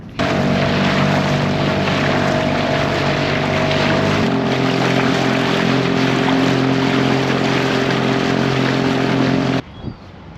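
A dinghy motoring from a sailboat to shore at Neah Bay: a loud, steady outboard engine drone with a constant hum and wind rush across the microphone, cutting off abruptly near the end.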